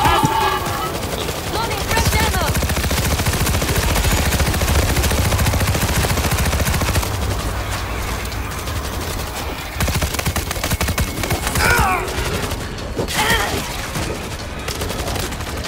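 Turret gunfire in the World War Z video game rattles on in loud, sustained automatic bursts, dense and continuous with brief dips, under and between occasional voices.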